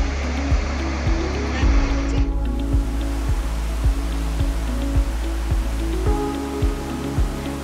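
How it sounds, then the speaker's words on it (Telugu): Taarabu waterfall, its water dropping 1640 feet, gives a continuous broad roar. A steady low hum and regular soft thumps run underneath. "ఈ వాటర్ 1640 అడుగుల ఎత్తు నుండి కిందకు పడుతుందంట. విన్నారా ఎంత పెద్ద సౌండ్ వస్తుందో."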